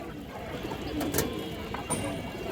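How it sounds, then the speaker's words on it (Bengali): A red khaki female pigeon, one of a flock of racing and high-flying birds, gives low cooing against steady background noise, with a brief louder burst midway. "খুব সুন্দর একটা কবুতর দর্শক"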